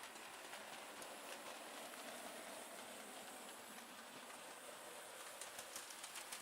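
A Bachmann LMS Ivatt class 4 model train rolls over a level crossing on a layout, giving a faint continuous hiss of small wheels and motor with light rhythmic clicking toward the end, with no talk.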